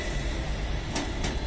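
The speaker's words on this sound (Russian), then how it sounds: "тут вот поезд «Ласточка» Москва-Минск на Аршанском вокзале" The Lastochka Moscow–Minsk train standing at Orsha station gives a steady, loud low rumble, broken by two brief hissing bursts.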